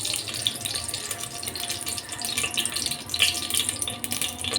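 Ghee heating in a hot, dry pressure cooker for ghee rice gives a steady, fairly loud sizzling hiss with a watery texture that continues evenly throughout, with no voices.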